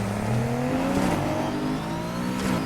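An engine-swapped V8 car in Need for Speed Heat revs hard and continuously, a loud, close, mean-sounding roar with shifting pitch and no talk over it.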